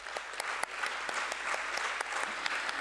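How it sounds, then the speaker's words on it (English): Dignitaries are applauded at a BSE stock exchange listing ceremony for Amagi Media Labs. A room full of people claps steadily for a few seconds, moderately loud, with a few sharper claps on top and no speech. "Let's have a huge round of applause for Mr."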